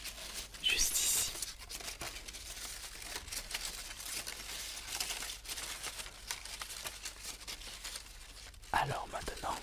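Close, crisp rustling and crinkling of small paper slips, handled in bursts, with a soft tearing-like swish near the start and end.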